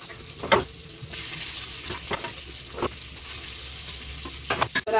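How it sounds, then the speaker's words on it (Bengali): Hilsa fish fries in oil in a covered pan, a continuous close sizzle broken by a few sharper spits and crackles and some light clattering near the end. "দেখুন ভাজা হচ্ছে।"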